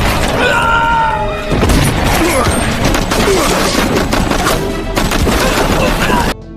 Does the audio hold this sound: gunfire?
yes